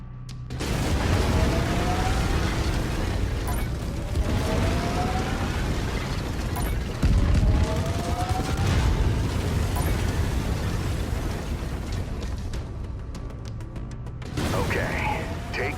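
A mech's autocannon firing in MechWarrior 5: Mercenaries, dense loud booming bursts and mechanical clatter that repeat almost continuously, with heavy rumble underneath and no talk.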